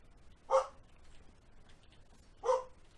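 A pet dog barks twice, about two seconds apart, each a single sharp bark fairly close against a quiet room, during an Ark Survival Evolved gaming session.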